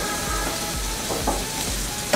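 Aloo paratha frying on a pan over low heat, a steady close sizzle with rhythmic soft thumps as the flatbread is pressed down, alone without talk.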